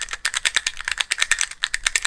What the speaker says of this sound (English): my newest addition is this little keyboard fidget